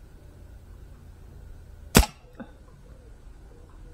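A single sharp report from a Ruger SuperHawk revolver cracks out once at mid-distance, short and fairly muted, followed by a faint echo against a quiet outdoor background.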